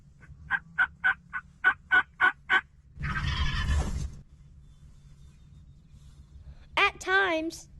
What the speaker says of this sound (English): Only the male turkeys gobble.